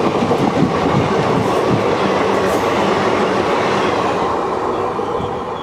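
A train of ICF coaches running on rails: a loud, continuous rumble with a rapid clickety-clack of wheels, heard from close by and fading slightly at the end.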